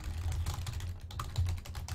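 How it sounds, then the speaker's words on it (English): Rapid, uneven clicking of keys on a computer keyboard, fairly quiet and close, with steady overlapping taps during a competitive Dota 2 esports match broadcast. "sorry about the typing there"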